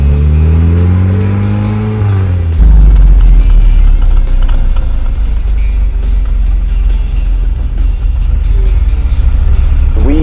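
A 1967 British Sunbeam sports car engine, the Tiger's smaller sibling, rising in pitch then bursting into a loud, steady full-throttle roar that holds close and strong for several seconds.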